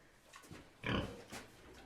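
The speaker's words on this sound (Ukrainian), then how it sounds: "Так свиня гуде." A pig makes a few low grunts, close but fairly quiet, with one louder, fuller grunt in the middle and softer ones around it. No one speaks.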